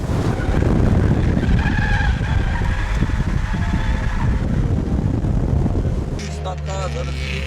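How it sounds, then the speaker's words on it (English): Tires of a stock car screech and roar in a long, continuous drifting skid under a revving engine at a grassroots drift session, loud and close, with voices briefly audible near the end. "Factory skidding."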